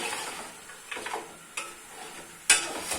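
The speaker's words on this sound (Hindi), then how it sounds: "तो देखें ये थोड़ा सा रोस्ट हो रहा है" Goat head curry roasting in a pan for a traditional Pakistani salan: soft sizzling with the scrape and clink of a stirring spoon, close and fairly quiet, and a brighter knock near the end.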